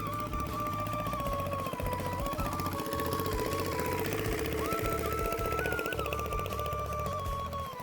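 Motorized machine, likely an irrigation pump engine belt-driving water onto a village field in Bangladesh, running with a steady loud mechanical chug and whine throughout, close by with no talk.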